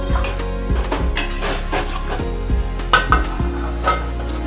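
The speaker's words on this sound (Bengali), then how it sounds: "এবার ভালো করে মিশিয়ে নিচ্ছি।" A utensil clatters against a pan while bottle gourd and fish-head curry (lau ghonto with tomato and green chillies) is stirred, with irregular scraping knocks and metallic taps over a low steady hum.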